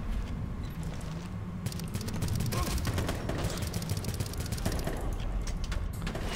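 Gunfire in the tactical shooter game Ghost Recon Future Soldier: a dense run of rapid automatic shots crackles continuously, loud and close, over a low rumbling background.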